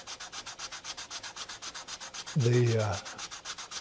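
Steady rhythmic rasp of a block sanding wood with short, even back-and-forth strokes, close up, briefly interrupted by a louder thud and scrape.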